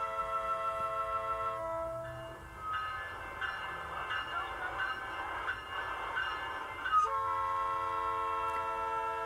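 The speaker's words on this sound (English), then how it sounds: "that was a very loud horn" A loud, sustained train horn blares, dips briefly, then resumes with a steady multi-tone blast over rumbling rail noise.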